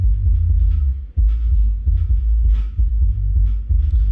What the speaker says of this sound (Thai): นี่เป็นเสียงซับเลย